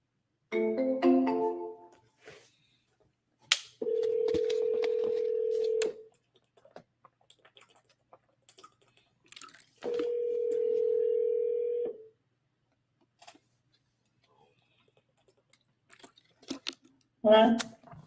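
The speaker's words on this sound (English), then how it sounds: "Let's see if this person picks up the phone, though." Telephone call being placed: a short burst of rapid keypad dialing tones, then two long, steady ringback tones separated by a pause, with faint rustling and brief talk in between.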